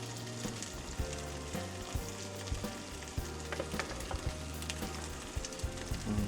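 A hamburg steak patty frying in a pan gives off a steady, close sizzle with small crackling pops and occasional faint utensil taps, with no talking.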